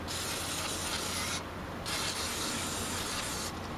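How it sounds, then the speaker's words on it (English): A continuous hissing aerosol spray on the outside of a Murray riding mower's carburetor runs in bursts with brief dips in between, close and fairly loud, with no talking. "I'm going to just spray the outside of this"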